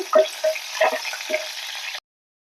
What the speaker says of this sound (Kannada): ನಂತರ ಕಟ್ ಮಾಡ್ಕೊಂಡಿರುವಂಥ ಮೆಣಸಿನ್ಕಾಯಿ ಸ್ವಲ್ಪ ಫ್ರೈ ಮಾಡ್ಕೊಳ್ಳೋಣ.